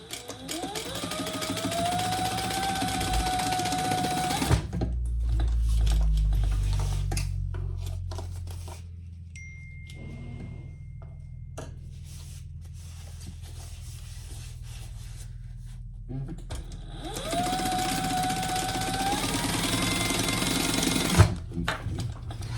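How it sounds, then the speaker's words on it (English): A sewing machine stitches down the side of a fabric phone pouch with card slots, whirring in two bursts that rise in pitch at the start, separated by a long quiet stretch of faint handling noise. "we're going to stitch down the side just to keep them together"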